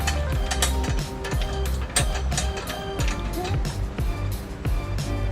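A hand ratchet clicks rapidly and steadily while tightening trailer hitch bolts to the frame of a 2013 Honda Odyssey, close and loud, in repeated runs of fast pawl clicks.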